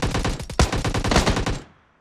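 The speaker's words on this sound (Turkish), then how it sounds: "Seni arkadan vuruyorlar bence." Rapid automatic gunfire in the mobile battle royale game PUBG Mobile, a loud burst of evenly spaced shots that stops abruptly and leaves a short fading echo.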